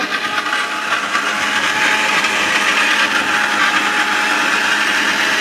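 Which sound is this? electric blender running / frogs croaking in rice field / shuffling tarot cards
electric blender running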